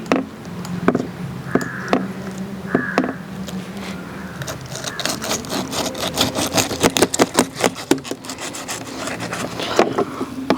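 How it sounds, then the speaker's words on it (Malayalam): A knife cutting through a snakehead (varal) fish, heard as steady rasping, scraping strokes that quicken into a dense run of rhythmic cuts, close and fairly loud with no talking. "നമുക്കൊന്ന് മീനൊന്ന് കട്ട് ചെയ്യാം."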